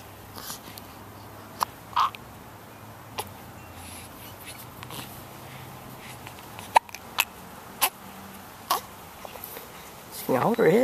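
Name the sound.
six-week-old baby hiccuping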